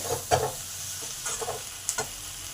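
Onion and capsicum sizzle in a pan while a spatula stirs, with several scraping strokes over a steady frying hiss.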